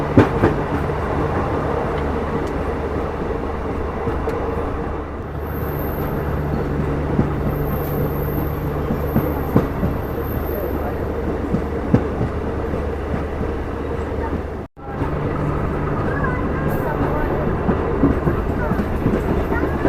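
Passenger train in Nepal rolling along its rails, a steady loud rumble with low hum and rattling throughout, briefly dipping near the end before resuming.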